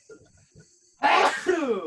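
A single loud, close sneeze bursts out after a few faint breathy sounds, heard on a wrestling podcast with no talk over it.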